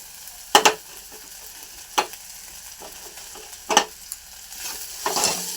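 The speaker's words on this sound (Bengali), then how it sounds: "মাছটা দিয়ে একটু নেড়ে চেড়ে ভেজে নেব।" Fish pieces and onion with a broken green chili frying in a pan, stirred in a few sharp scraping bursts over a soft steady sizzle, close and without voices.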